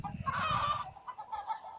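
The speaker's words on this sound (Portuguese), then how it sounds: "Olha lá as galinhas." Cartoonish chickens cluck in the mobile farming game Egg, Inc., with a short, bright burst of clucking followed by softer chatter.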